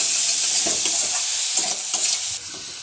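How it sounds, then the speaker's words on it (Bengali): Chicken fries in a pan under a constant bright sizzle, with several scraping stirring strokes breaking through up close before the hiss eases slightly at the end. "এটাকে একটু নাড়িয়ে নেব। এটাকে একটু ভাজা ভাজা হতে দেবো"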